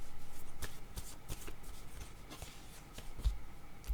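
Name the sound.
shuffling word cards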